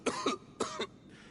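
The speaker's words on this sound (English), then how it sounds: "Why is he coughing so much?" A character coughs in the Genshin Impact video game, two quick pairs of harsh, close coughs in succession, followed by a softer breathy exhale.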